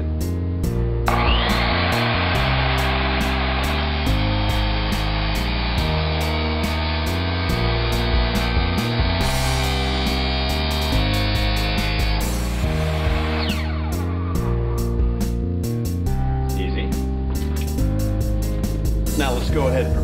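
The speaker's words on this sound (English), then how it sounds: "Let's go ahead and cut the metal for the bracket." A power tool cuts sheet metal for a bracket, giving a loud, continuous grinding whine broken by brief pauses, over steady background music.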